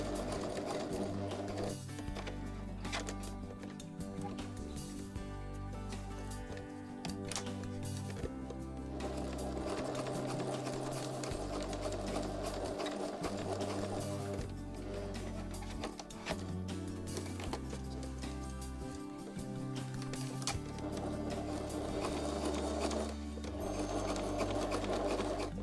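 A domestic sewing machine topstitches fabric all around the edge of a dress panel, running in steady bursts of rapid mechanical chatter with brief pauses, close and continuous throughout.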